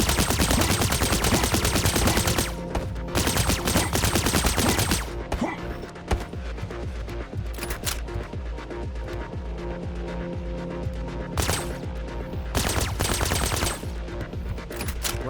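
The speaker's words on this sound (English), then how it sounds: "Well, I can shoot the laser." Rapid bursts of laser-gun fire from a shooter game demo, loud and dense, pausing briefly before the volleys resume in rough, repeated waves.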